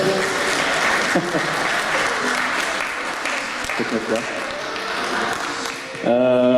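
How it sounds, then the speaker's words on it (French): An audience at a children's music presentation in Cergy applauds Angel, a drummer, with steady, dense clapping throughout, and a brief tonal voice or note rises near the end. "on applaudit Angel, le batteur"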